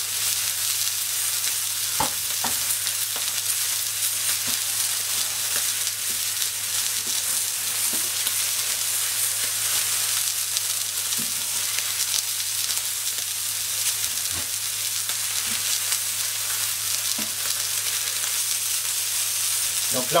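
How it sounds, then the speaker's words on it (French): Meat cooked sous-vide for three hours at 52 degrees sears on a plancha at maximum heat, giving a steady broadband sizzle throughout with a few soft clicks and bumps, no talk. "nous allons saisir donc là la plancha au maximum, rapidement, notre viande qui a cuit 3 heures"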